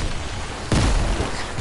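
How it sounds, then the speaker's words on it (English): In Fortnite, a loud explosion bursts in with a deep, rumbling blast partway through, over busy game noise, and a second burst follows near the end. "Explosion."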